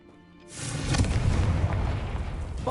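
A Confringo spell blast from Hogwarts Legacy erupts into a loud, sustained booming roar that swells after a brief quiet start and rumbles on without talk.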